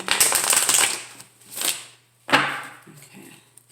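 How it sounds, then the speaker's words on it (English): Tarot cards are shuffled by hand in three riffling bursts, a long busy one, a shorter one and a final quick flutter, close and crisp with brief pauses between. "Do one more shuffle."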